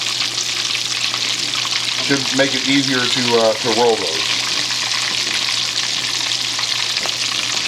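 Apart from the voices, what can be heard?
tortillas frying in oil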